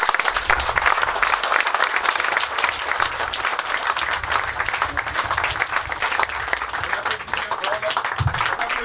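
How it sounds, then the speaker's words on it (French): A crowd at a ceremony held by a committee applauds loudly and continuously, a thick, sustained wash of many hands clapping, with voices and cheers audible beneath it throughout. "Applaudissements bien fort"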